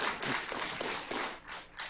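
An audience at a county commission meeting bursts into clapping, a dense patter of hands that swells and falls over a couple of seconds with no speech.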